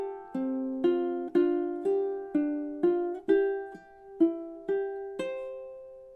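Ukulele strums through two measures closing the first ending of a song, a steady run of about ten crisp plucked chords, close and clean, ending on a ringing final chord without any talking.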